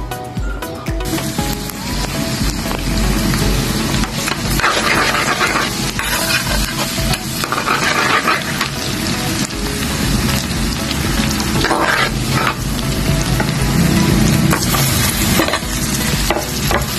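Garlic and onion sautéing in a pan for paksiw na tilapya, a steady dense sizzle and frying crackle with occasional stirring, close and loud throughout with no talk.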